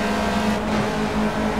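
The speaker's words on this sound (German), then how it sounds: "Und also wenn ich hochschalte, gehe ich vom Gas, und wenn ich runterschalte, gebe ich Zwischengas." Ginetta G40 GT5 race car engine at Laguna Seca in Project CARS, a steady loud close engine drone with a slight rise in revs, no talk over it.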